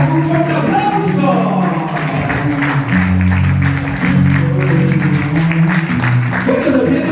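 Applause for the godparents at a quinceañera party, steady crowd clapping sustained for several seconds under a loud announcer's voice and festive background sound.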